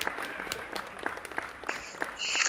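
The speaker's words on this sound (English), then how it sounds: "So with a big round of applause, let's welcome Emily Eisler." Audience applause greets a guest on a podcast stage, moderate and steady with a few sharper claps standing out, rising a little louder toward the end.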